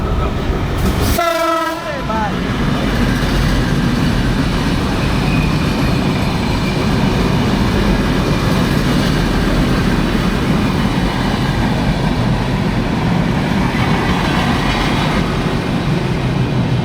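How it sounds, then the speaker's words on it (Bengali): A Narayanganj commuter train roars past close by, starting with a short horn blast and then a loud, steady rumble of rolling wagons. "ওই পাশ থেকে একটা ট্রেন গেল"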